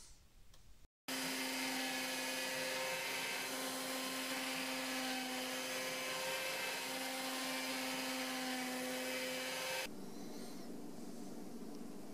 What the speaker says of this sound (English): let's go put our piece of wood on the CNC and start carving now